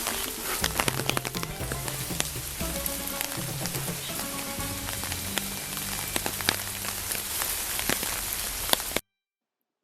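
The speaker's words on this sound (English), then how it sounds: "As it started raining" Rain patters on Po Toi island, Hong Kong, a dense crackling hiss of drops over a surface, steady and close, with faint low tones underneath before it cuts off abruptly near the end.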